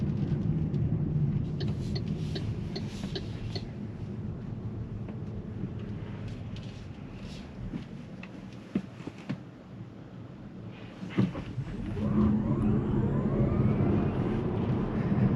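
MG4 XPower electric car accelerating hard with front wheels spinning, a loud sustained rumble and road roar from inside the cabin that eases briefly, then swells again near the end.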